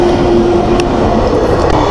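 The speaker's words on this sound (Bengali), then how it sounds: "ট্রেনের শব্দ পাচ্ছি" A through train passes a railway crossing with a loud, steady rumble and rattle of wagons that fills the whole stretch up close, with no voices.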